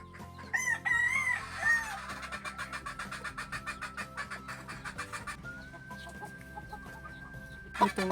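Chickens on a farm where pullet chicks have hatched: a loud rooster crow and clucking up close, followed by a steady run of rhythmic fowl calls and a long thin high tone, with no talking.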